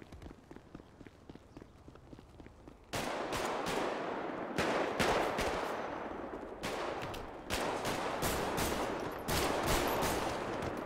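A series of loud gunshots in a city-setting role-play game, several sharp cracks in quick bursts after a quiet start, with someone talking faintly nearby.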